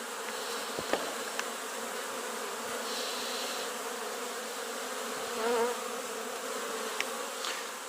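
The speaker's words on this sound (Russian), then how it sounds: "Вечер, поэтому пчелы прилетают с поля уже домой ночевать." A dense, steady buzz of many honeybees returning to the hive in the evening, close by, with occasional individual bees zipping past, no talking.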